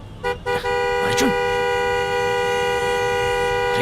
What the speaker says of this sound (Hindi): क्यों हॉर्न बजा रहा है? बस कर यार।